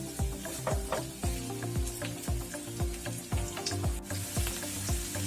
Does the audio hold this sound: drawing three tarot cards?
no